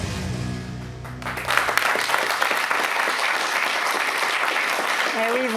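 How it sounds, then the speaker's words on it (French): Audience applause at a business awards ceremony, starting under a brief voice with music and swelling into a steady, dense clapping from a large crowd that holds to the end. "Vous pouvez l'applaudir."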